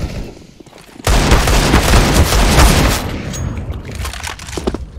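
Counter-Strike gunfire erupts abruptly after a quiet second, a loud dense burst of rapid shots that continues as sustained firing with scattered louder cracks toward the end.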